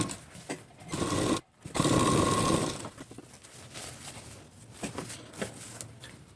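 A sewing machine stitches a blouse up close, running in a steady whirring burst, pausing briefly, then resuming with lighter, intermittent stitching and handling noises.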